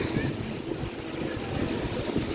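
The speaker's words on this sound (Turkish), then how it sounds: "Şuradaki şelaleden de rüzgar falan geliyor." Wind gusts from a nearby waterfall, a steady roaring rush with low buffeting rumble against the microphone, continuous and fairly loud throughout.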